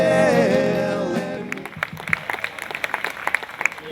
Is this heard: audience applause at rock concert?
yes